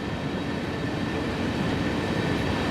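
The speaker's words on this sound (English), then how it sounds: "Beautiful train." A long freight train on the Cane Creek branch between Brendel and Moab in Train Sim World 2 rumbles past as a steady, dense roar of rolling wheels and rail noise, loud and unbroken throughout.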